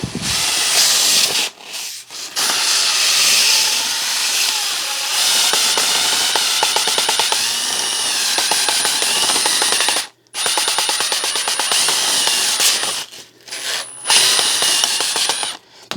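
A power tool polishes a rough Snap-on punch held in a metric socket, a loud continuous whirring grind that runs close up with a few brief stops and restarts.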